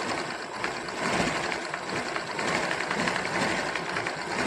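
A sewing machine stitches a picot edge along a saree border, a continuous fast mechanical whir and rattle at steady volume with no voices.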